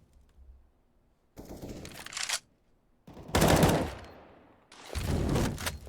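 Gunfire in the tactical shooter game CS:GO during a tense 2v2 round after a bomb plant, arriving as three loud bursts of shots separated by short quiet gaps, with no talk over them.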